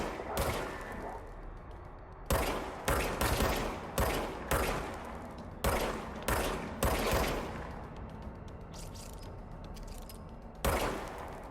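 Gunfire in the video game Control, a series of loud single shots and short bursts spaced irregularly over a steady background rumble, with some quieter distant shots between them.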